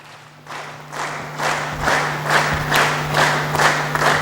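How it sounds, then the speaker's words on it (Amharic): An audience at a graduation ceremony claps to welcome a guest, the applause swelling from scattered claps into a steady rhythmic clapping with a low hum underneath. "በጭብጨባ እሳቸውን ወደዚህ ተቀበሉልኝ።"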